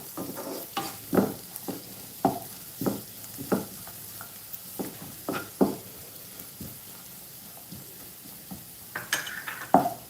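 Chicken kabsa ingredients being sautéed and stirred in a pan on a stove with the flame off, giving scattered scrapes and clinks of a utensil against the pan over a soft background sizzle, close and moderately loud.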